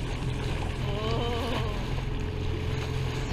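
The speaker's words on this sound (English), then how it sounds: "Here is some exploring we do with the dinghy everywhere, which is good when we are sailing in company." Small dinghy motoring across open water while exploring uncharted waters, its outboard engine droning steadily under wind noise and splashing water, loud and close throughout with no talking.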